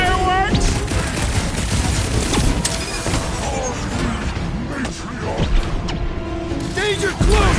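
Combat in the Guardians of the Galaxy video game, with loud bursts of rapid gunfire, crashes and explosive impacts layered close together, while characters shout and talk over the fight.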